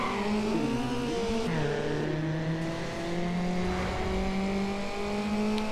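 A race car in Need for Speed: Underground revs hard and shifts up through the gears, its engine note climbing and dropping repeatedly, loud and close with no talk over it.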